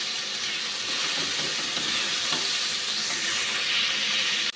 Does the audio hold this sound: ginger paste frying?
yes